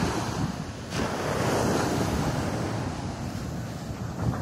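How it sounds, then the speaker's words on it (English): Atlantic Ocean surf breaking on a beach at Ibeju-Lekki, Lagos, Nigeria, a steady loud wash of waves mixed with gusting wind noise on the microphone. "Beautiful place, Atlantic Ocean."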